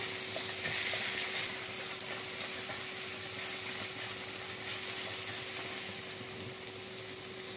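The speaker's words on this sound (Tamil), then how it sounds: "வெங்காயம் பார்த்தீங்கன்னா நல்லா வதங்கணும்." Onions sautéing in a pan for Mumbai street-style pav bhaji, a steady close sizzle with faint stirring running throughout and no voices.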